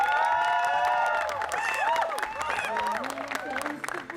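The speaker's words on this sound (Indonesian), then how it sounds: "Tepuk tangannya dong" Audience at a dangdut singing event applauds and cheers as the singer is called to the stage, a loud, dense burst of clapping with whoops and lively voices mixed throughout.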